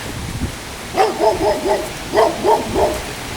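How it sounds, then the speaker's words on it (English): A dog barks in two quick bursts of three or four yips, somewhat distant, over quiet outdoor ambience. "That's our neighbor's dog."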